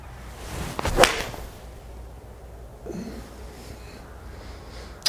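A golf shot struck with a PXG 0311T Gen 2 hollow-body iron: one sharp, close whip-like impact and whoosh near the start, then quiet outdoor ambience.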